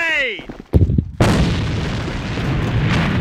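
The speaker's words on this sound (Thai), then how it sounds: "Grenade" A grenade goes off in the AVA shooter game, a sharp loud blast that cuts in after a brief clatter and chime, then a long roaring decay of debris and rumble filling the rest.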